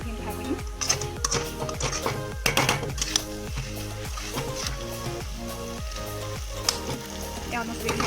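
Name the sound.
frying chowmein noodles with potatoes, onion and chili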